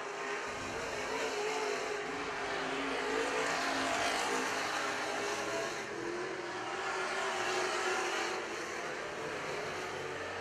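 Wissota Super Stock race cars roar steadily around St. Croix Speedway, a dense continuous engine drone from the pack with slight swells as cars pass, no talk audible.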